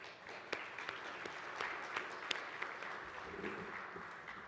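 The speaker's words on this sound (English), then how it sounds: "Let's give them a round of applause" Faint, distant applause from an audience at a conference general session, scattered claps within a steady patter.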